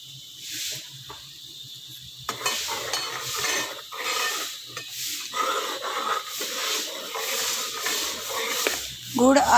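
Semolina being dry-roasted and stirred in a pan for jaggery halwa, with a steady scraping and soft sizzle rising in repeated strokes, close and moderately loud, joined by faint background noise.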